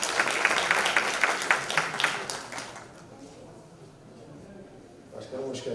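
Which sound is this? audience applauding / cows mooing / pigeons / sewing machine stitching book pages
audience applauding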